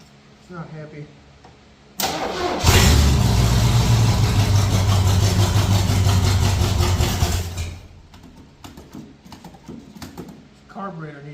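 A high-compression 460 V8 with a carburetor needing a rebuild fires up and runs rough and loud for several seconds, then cuts off, with talking before and after.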